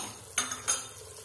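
Metal utensil clinking and scraping in a pan while capsicum and onion fry with spices over medium-high heat, two sharp close knocks amid a quiet bed of stirring.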